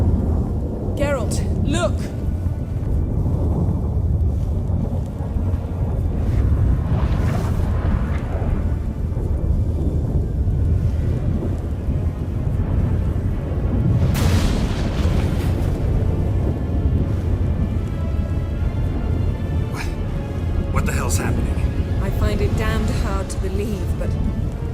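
Thunder from a storm in The Witcher 3: Wild Hunt rolls and booms in heavy, rumbling bursts, with sharp cracks standing out, under a game soundtrack and characters' voices.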